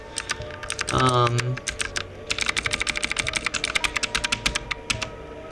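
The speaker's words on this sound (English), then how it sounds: "If you type Gaster, once you type the R, it'll restart the game" Typing a character name on a computer keyboard for the video game Deltarune Chapter 1, a fast, loud burst of close clicks after a brief spoken sound, with the keystrokes clattering steadily to the end.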